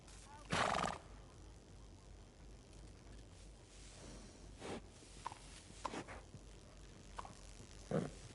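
A horse in the Western video game Red Dead Redemption 2 gives one short, sharp whinny near the start, then a few soft hoof thuds and snorts follow at scattered intervals under quiet ambience.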